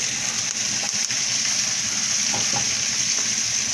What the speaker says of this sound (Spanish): Seguimos meneando. Que no se nos vaya a quemar nuestro ajo.